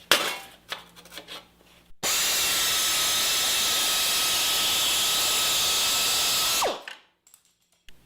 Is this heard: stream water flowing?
no